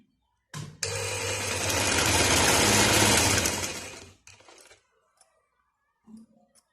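Sewing machine stitching a belt shalwar, a steady close whirring run of about three seconds that starts sharply and winds down, followed by a few brief mechanical clicks.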